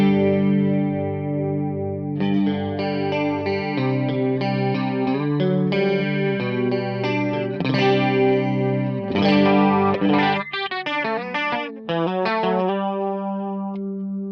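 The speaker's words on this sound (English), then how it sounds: "You can crank the depth up, and that'll make it so it makes more of a drop and up down effect." A Fractal FM9 pitch modulation effect with its depth turned up bends sustained guitar-like tones in pronounced dips and rises, a thick chorused, slightly distorted wash that shifts in pitch throughout, loud and continuous with no talking.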